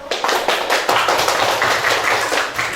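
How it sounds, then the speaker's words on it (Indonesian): Classroom applause for a group of sixth-grade pupils during an elementary school Islamic religious education lesson, a dense, steady clatter of many hands clapping together for about three seconds, fairly loud and close, with no talking. "tepuk tangan untuk kelompok 4"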